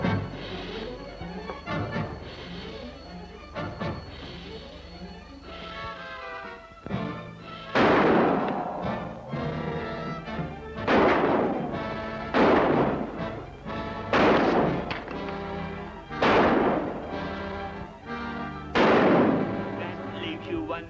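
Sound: gunshots fired in the dark

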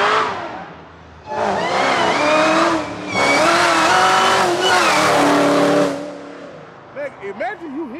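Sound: LT4-swapped 1975 Caprice Classic engine revving

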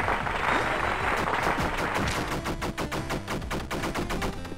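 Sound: gunfire from a gun in DLC Quest video game

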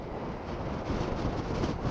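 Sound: strong wind

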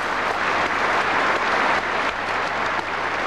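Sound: audience applause

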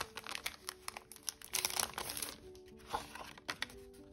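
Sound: unfolding accordion fold paper

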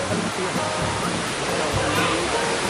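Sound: river water flowing

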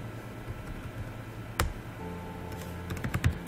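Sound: typing on a computer keyboard

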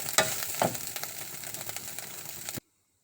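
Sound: eel being stir-fried with garlic in a pan

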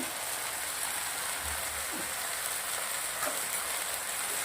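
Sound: okra added to spicy masala, frying in pan

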